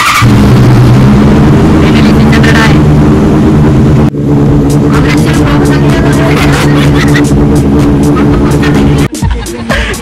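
A KTM Duke 390 motorcycle engine revving loudly and close, a strong sustained roar with throttle surges, one brief cut near the middle and a sharp drop at the end.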